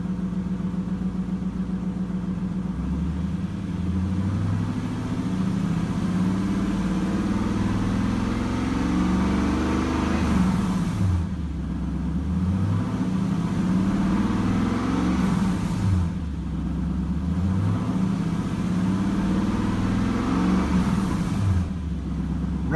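A 1997 Lexus LS400 with 224,757 miles, its engine idling smoothly and revved up in three repeated rising and falling swells, close and steady with no talking.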